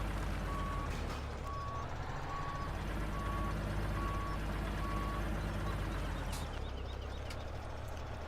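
Truck reversing beeper in the Farming Simulator 17 video game, a steady evenly spaced run of about six beeps over a continuous low diesel engine rumble, with no talking.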